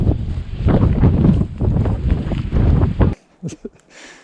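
Cold wind at the Grand Canyon buffets the microphone in loud, rough gusts for about three seconds, then drops away to near quiet with a few faint rustles.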